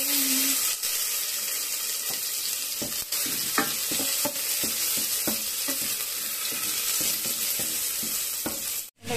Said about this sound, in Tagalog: Tamang-tama lang na maluto yung onion at saka bawang.